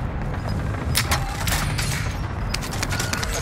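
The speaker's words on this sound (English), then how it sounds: "Cluster strike is active." Cluster airstrike in Call of Duty: Modern Warfare: a dense, rolling barrage of overlapping explosions and rapid cracks, loud and continuous throughout, with sharper bursts clustered near the middle and end.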